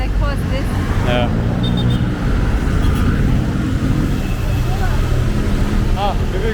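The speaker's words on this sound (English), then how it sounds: "It's really busy with a lot of motorcycles and cars." Busy Jakarta street traffic with motorcycles and cars, a constant close roar of engines and passing vehicles with occasional horn-like tones, while people talk over the din.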